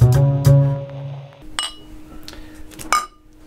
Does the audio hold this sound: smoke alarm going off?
no